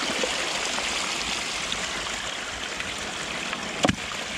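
Water flowing out around the bottom of a low-head weir pipe, a steady broadband rushing that stays even throughout, with a brief knock near the end.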